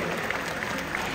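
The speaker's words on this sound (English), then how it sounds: "Let's just give him a round of applause" A crowd of visitors at an outdoor bird park show in Singapore applauds after an Amazon parrot performance, a brief, steady wash of distant clapping.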